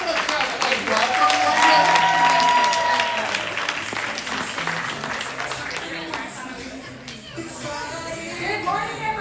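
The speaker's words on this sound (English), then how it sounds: "Hey, give them a clap." Applause and cheering from a room of real estate agents at a morning sales meeting greet new members, a loud sustained round of clapping that fades gradually, with voices mixed in.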